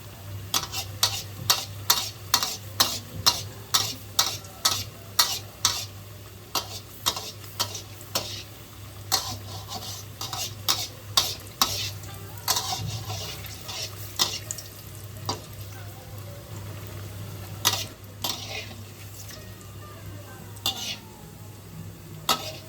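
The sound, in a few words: egg devils frying in a little oil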